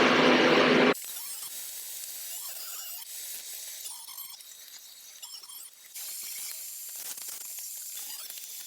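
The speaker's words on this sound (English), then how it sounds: "So I'm going to run it through the table saw" A table saw cuts wood for boards in a loud, harsh whining burst lasting about a second, followed by quieter whirring, faint squeals and clatter from the shop.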